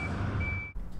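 A truck's reversing alarm beeps in a steady tone over a rumbling engine, then cuts off as a short air-brake hiss and engine noise take over.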